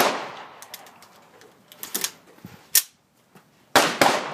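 An AR-15 fitted with a CMMG .22lr conversion kit firing a few sharp, spaced shots, some close together near the end, over light mechanical clatter and background hiss, with no voices.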